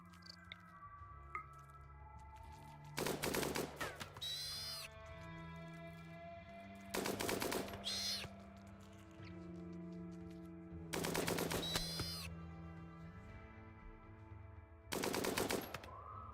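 Gunfire from colonists shooting in the video game Rimworld comes in four loud bursts of rapid shots, each a second or so long, spaced every few seconds over steady game music.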